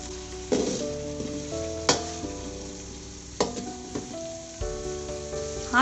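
Tomatoes and green chilies sizzle in a pot over a low flame, a soft continuous frying hiss punctuated by several sharp clinks and scrapes of a spoon stirring, close and with no voices.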